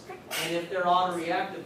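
A single short sneeze from someone in a lecture audience, brief and moderately loud, while a lecturer keeps talking through it.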